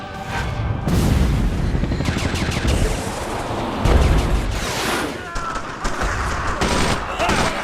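Dense bursts of gunfire and booming blasts in the game Brothers in Arms overlap in a chaotic battle din, with rapid volleys and heavier impacts throughout.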